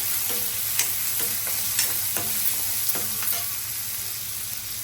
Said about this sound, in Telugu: ఉల్లిపాయలు వేస్తున్నానండి